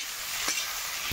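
Cauliflower frying in a pan with turmeric and salt, a brief close hiss and sizzle with a sharper crackle in the middle.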